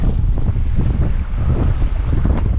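Strong wind buffets the microphone aboard a fishing boat near Ozello and Crystal River, loud rumbling gusts battering the mic continuously with water noise beneath.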